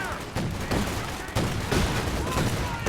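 Gunfire in the World War II strategy game Company of Heroes 2, a US versus OKW match, with dense overlapping rifle and machine-gun bursts and heavier booms in rapid succession, close and loud.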